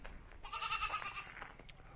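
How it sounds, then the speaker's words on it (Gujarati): A goat bleats at a distance outdoors near a rural home with vegetable plantings. It gives one faint, wavering bleat lasting about a second against a quiet background. "સામે બકરાનો અવાજ છે"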